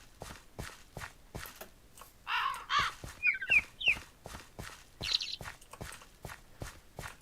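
Crows caw in a handful of short, scattered calls at moderate distance, layered over a steady, regular rhythm of hoofbeats or footsteps.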